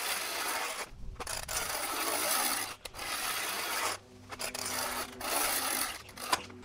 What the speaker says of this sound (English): grab the awning, pull it in and out a few times, let it self-seat on the actual drum